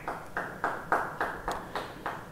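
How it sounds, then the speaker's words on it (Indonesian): Church congregation clapping in unison, a slow steady beat of about eight distinct group claps spaced roughly a third of a second apart, moderately loud and alone with no talking. "Yang percaya beri tepuk tangan bagi Tuhan"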